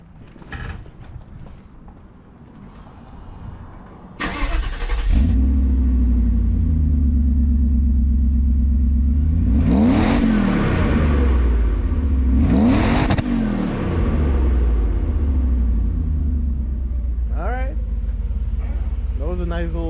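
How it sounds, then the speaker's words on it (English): A Mercedes R129 SL500 V8 cranks and starts with a sharp burst, then settles into a steady close idle with two strong revs partway through. Speech is also detected in the clip. "Nice little startup and rev up."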